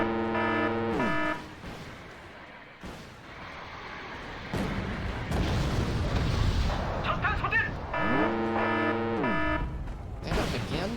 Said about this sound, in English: try to not be directly under the artillery bombardment